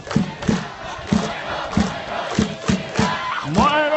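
A large Japanese baseball stadium crowd chanting in rhythm, the generic right-hander cheer, with steady drumbeats marking the chant and trumpets rising near the end, loud and echoing.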